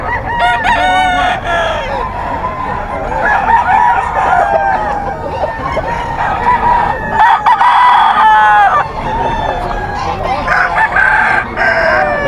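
A Sweater Gray gamefowl rooster crows loudly and close several times, with clucks and other birds around it at a gamefarm seller's yard, and faint talk is in the background.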